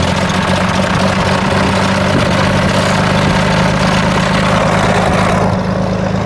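A single-engine propeller airplane sits running on the ground, its engine idling with a loud, steady low drone and vibration, close and continuous throughout.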